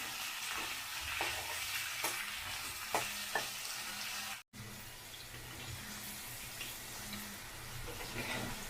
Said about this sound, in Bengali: হালকা করে ঢেঁড়সটা ভেজে নেব